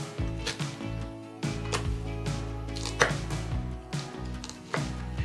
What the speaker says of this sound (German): Jetzt wird es einfach erstmal klein geschnitten, in schöne kleine Stücke.